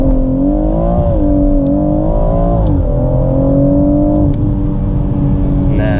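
A BMW M140i in Sport Plus mode with a stage-three tune accelerates hard at full throttle from inside the cabin, its engine note loud and rising through the gears, with brief dips at each shift.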